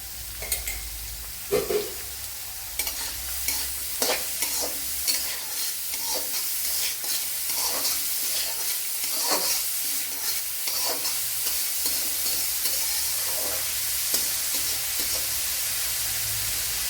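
Carrot and chopped onion fry in a pan for a Kerala carrot and spinach thoran, a steady soft sizzle broken by repeated scraping and clinking stirs of a spoon against the pan.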